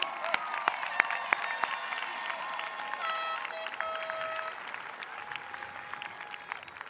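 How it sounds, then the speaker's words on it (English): Sustained graduation-ceremony applause from a large audience, a steady wash of clapping with scattered sharper claps and a few cheers, fairly distant and slowly tapering off. "Let's give them a nice round of applause, please"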